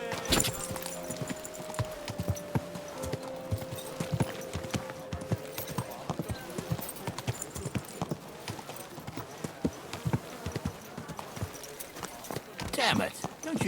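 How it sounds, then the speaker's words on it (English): Horse hooves clip-clopping at a gallop in Kingdom Come Deliverance 2, a steady rapid rhythm running throughout, with game voices and medieval background chatter over it. "Watch out with that horse!"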